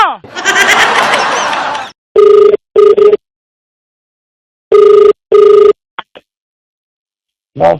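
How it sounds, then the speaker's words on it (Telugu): A telephone ringing in two pairs of loud electronic trills separated by silence, after a burst of studio noise and a short beep. "మీ అబ్బాయి ఇప్పుడు ఫోన్ చేస్తున్నాడు"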